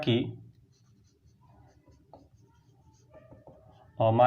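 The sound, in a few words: writing on a board during a maths lesson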